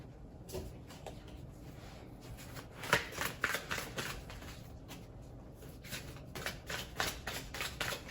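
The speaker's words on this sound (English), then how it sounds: "Let's pull an oracle card for this." Oracle cards being shuffled by hand during a tarot-style reading, a run of soft riffling bursts and flutters that come in quick clusters, close up, with no talking over them.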